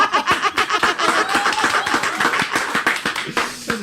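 A studio audience claps hard in quick rhythmic bursts at a lively Indonesian talk show opening, with chuckles and laughter mixed in and voices over the top.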